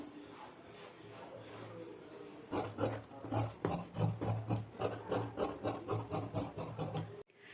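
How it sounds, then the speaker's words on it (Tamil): Scissors cutting through blouse lining fabric on a work surface, a quiet rub at first, then a steady run of rhythmic crisp snips and rasping strokes at close range. "இப்போ இதை அப்படியே ஷேப் போட்டு நம்ம கட் பண்ணிக்கலாம்."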